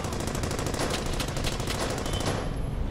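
Rapid automatic gunfire from the World War II shooter Brothers in Arms: Hell's Highway, a dense, continuous rattle of bursts that runs loud and unbroken before cutting off near the end.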